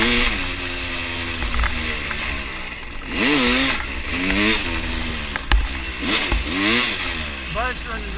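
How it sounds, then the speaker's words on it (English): An enduro dirt bike with a freshly rebuilt motor runs loud and close on a trail at Hungry Valley, its engine buzzing and rising and falling through repeated throttle blips and revs. "The bike's running really fucking sweet right now"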